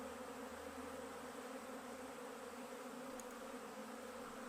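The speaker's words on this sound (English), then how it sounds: "It's kind of a lot of bee sounds." Dense, steady buzzing of many bees fills the whole stretch at an even level, a continuous insect drone with no talk over it.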